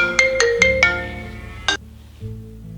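A phone ringtone plays a short run of bright electronic tones with a few rhythmic beeps, then a brief chirp and a fading low tone, loud and close with no talking.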